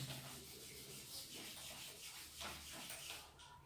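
An object is rubbed briskly to build up a static charge, producing a steady, close, hissing friction sound that continues for a few seconds without speech.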